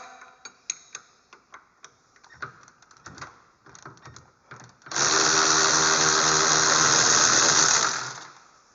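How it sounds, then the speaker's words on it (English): A Steelman 13 mm six-point box wrench loosens an axle bolt on a 2011 Polaris Ranger XP 800, giving a run of sharp ratcheting ticks, followed by a loud sustained rushing noise lasting about three seconds. "I'm using a Steelman 13 millimeter 6-point box."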